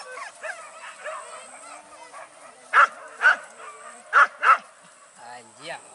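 A dog barks in a few sharp, close yips in quick pairs, standing out over a background of people talking and kitchen activity.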